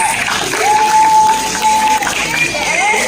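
Audience at a Kantharis spice event in Trivandrum, Kerala, giving a round of applause with cheering, a loud mixed crowd noise with clapping and scattered whistles or shouts filling the whole stretch.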